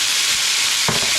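Soy sauce hits firm tofu frying in a hot pan, giving a loud, continuous sizzle with a brief surge of spitting near the end and no talk.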